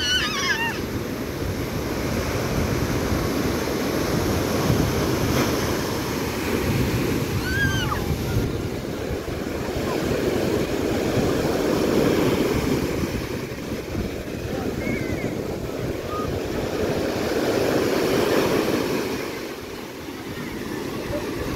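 Rough sea waves break on the shore at Phoenicia Blue View in a continuous, loud roar of surf that swells and eases in slow surges, with faint voices and wind mixed in.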